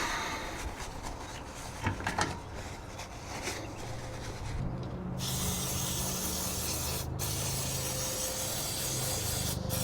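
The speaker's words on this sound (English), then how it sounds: "I'm going to get some brake clean and get all these parts cleaned right up here" Brake cleaner sprays onto RV wheel bearing parts during a bearing repack. After some rubbing and handling noises, a loud, continuous aerosol hiss runs steadily to the end, close to the mic.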